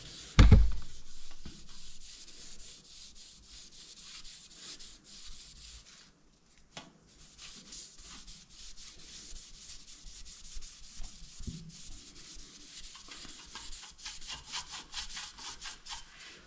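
A cloth rubs steadily across an antique silver tea set, giving a continuous, close, even scrubbing swish with a short pause partway through.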